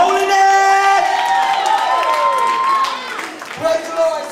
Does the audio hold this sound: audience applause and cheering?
yes